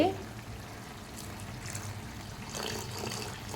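Water is poured into a pan of Telangana-style gongura chicken curry, a soft steady splashing and trickling against low kitchen background noise.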